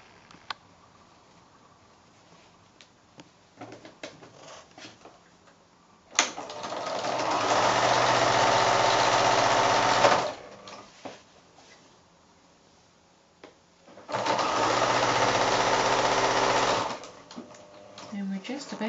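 Sewing machine stitching a quilt block seam of large cotton patches, two loud close bursts of rapid stitching separated by quieter handling noises and someone talking.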